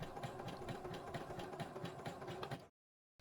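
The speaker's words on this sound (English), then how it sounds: "now we're ready to feed it to the hungry jaws of our sewing machine." A sewing machine runs steadily at close range, its needle clattering in a fast, even rhythm for nearly three seconds before stopping abruptly.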